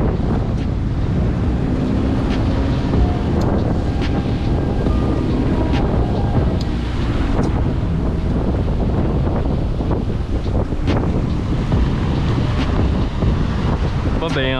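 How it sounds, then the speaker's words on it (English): Strong wind roars steadily into the microphone throughout during a surf launch of a Scout boat at La Jolla, with water and surf churning underneath. "Oh my goodness, that wind is blowing."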